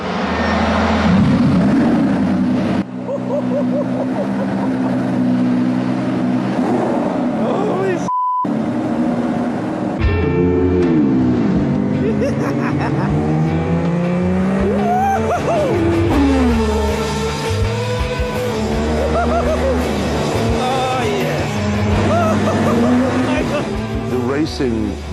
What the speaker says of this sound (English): the car roaring and going through Monaco streets